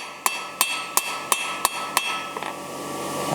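A blacksmith hammers a hot steel bar on an anvil while forging an S hook: six evenly spaced, ringing metallic strikes, close and loud, followed by a few lighter taps as the ringing fades, with no talking.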